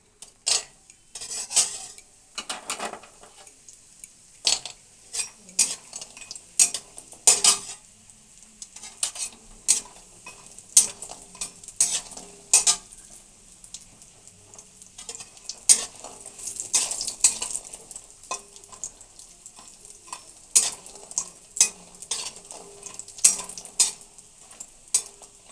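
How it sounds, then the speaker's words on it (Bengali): Bori lentil dumplings frying in oil in a pan, with repeated sharp clinks and scrapes of a spatula stirring against the metal over a soft sizzle, irregular and steady throughout. "বড়িগুলো লাল করে ভেজে নেব।"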